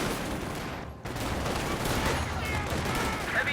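Distant, muffled battlefield gunfire from units in the World War II strategy game Company of Heroes 2, a dense rattle of rifle and machine-gun shots that continues under the game's ambient noise.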